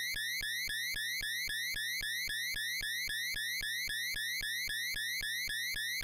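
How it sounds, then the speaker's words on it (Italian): Rapid, steady electronic beeping alarm from the final Wily stage of the Mega Man 2 video game, repeating about four times a second, loud and unbroken for the whole stretch with no talk over it. "Adesso un momento fastidiosissimo per il beep beep beep"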